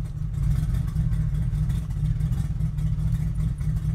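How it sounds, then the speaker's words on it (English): A turbocharged LS V8 in a truck idles very low, around 500 RPM, and stumbles. It runs as a steady, loud, rough rumble with uneven low pulses and no voices. "it starts and then it kind of stumbles. It's barely running at maybe 500 RPM,"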